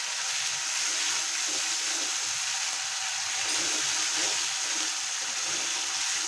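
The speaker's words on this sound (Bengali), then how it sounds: "এখন আমি একটু জল ঢেলে দিচ্ছি।" Water pours into a fish and eggplant curry cooking in a pan, a steady, even hiss and gurgle that lasts several seconds with a faint sizzle beneath and no voice.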